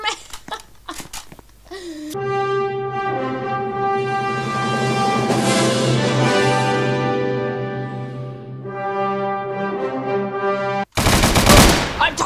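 Gunfire in the Roblox game rattles in short bursts at the start, and a dense, loud volley erupts near the end, with a sustained tonal sound filling the middle.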